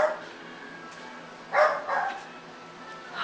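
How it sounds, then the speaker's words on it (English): Dog barking at visitors arriving at an art studio, a couple of short barks and yips heard indoors at moderate distance, with a faint hum underneath. "The dog is happy, greeting the telephone callers, greeting the visitors."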